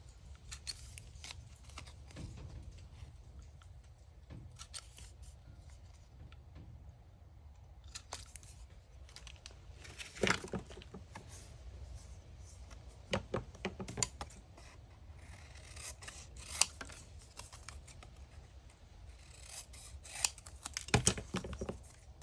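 Scissors hand-cut paper scraps into ticket shapes, giving scattered, quiet snips and crisp paper rustles at irregular intervals, close by in a calm room.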